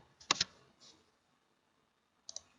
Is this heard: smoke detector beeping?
no